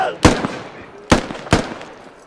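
Rifle fire in the Squad video game: three sharp, loud shots close by, the first alone, the last two in quicker succession, each trailing off in a short echo.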